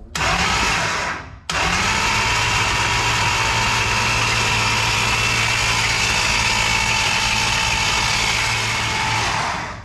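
Race car engine cranked over with the spark plugs out to build oil pressure, a loud, steady whirring drone close by that pauses briefly near the start and then runs continuously for about eight seconds.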